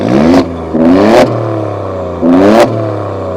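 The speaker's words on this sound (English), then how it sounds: "let's hear this engine." An Alfa Romeo Stelvio Quadrifoglio engine blips three times, loud and close, each sharp rev rising and falling back to a steady idle between them.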